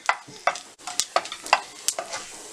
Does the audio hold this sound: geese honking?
no